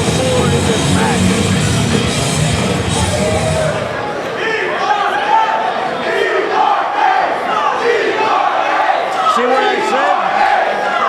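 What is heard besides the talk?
wrestling crowd chanting for both teams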